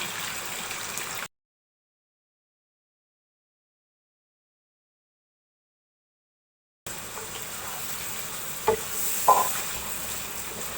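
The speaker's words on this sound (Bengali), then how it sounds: "এই তেলে আমি মুরগিগুলো দিয়ে দিচ্ছি।" Chicken pieces frying in oil in a wok, a steady soft sizzle and bubbling that cuts off into silence for several seconds, then resumes with a couple of brief clatters near the end.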